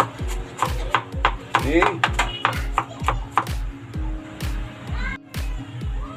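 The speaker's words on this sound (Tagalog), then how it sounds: "paliliitin lang po natin yung bawang sa panggisa" Knife blows chop garlic on a cutting board in a steady, close rhythm, readying it for sautéing a chicken adobo. A voice speaks briefly over the sharp, regular knocks.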